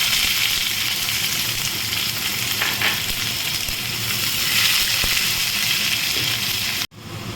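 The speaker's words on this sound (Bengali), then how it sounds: "এবারে এর মধ্যে আমি দিলাম পেঁয়াজ।" Onions sizzle loudly and steadily in hot oil with marinated soybean chunks, a continuous crackling fry with a faint stir near the end before a brief drop.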